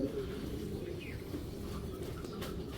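A red checker racing pigeon cock coos with a low, steady, murmuring call that runs continuously throughout, close by and with no talk over it.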